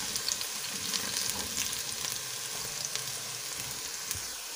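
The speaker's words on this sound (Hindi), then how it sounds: "प्याज हमारी ब्राउन हो रही है, हमें इसे लाइट गोल्डन ब्राउन करना है" Onions frying in oil toward light golden brown for beef yakhni pulao, a steady dense sizzle with faint crackles and occasional soft utensil taps, close and continuous.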